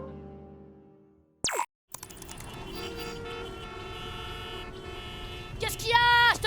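A car horn honks in a French street scene, a short loud burst near the start and a couple of bright, rising honks near the end, with steady background sound and voices in between.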